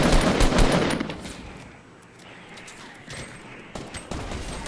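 Rapid automatic gunfire in the video game Fortnite, loud bursts at the start, then quieter scattered shots and rattling fire through the rest.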